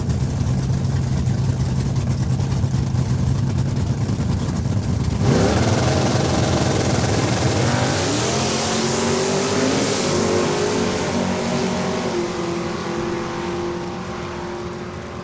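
An 1982 Camaro and another drag car launch at Saskatchewan International Raceway in Saskatoon: a steady loud engine drone swells into a roaring, rising rev as the cars pull away, then fades slightly.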